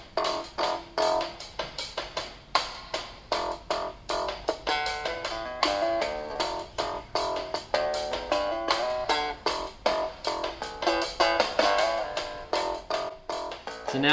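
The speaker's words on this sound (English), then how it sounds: "There's his drum track and my bass track." Drum track and bass guitar track layered together into one song, steady beat with a melodic bass line running through, continuous and alone.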